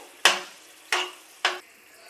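Three separate scraping, sizzling strokes as a spoon stirs mava (milk solids from malai) in hot ghee in a pan, each burst sharp at first and fading, close and clear with no talk.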